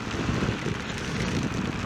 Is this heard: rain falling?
yes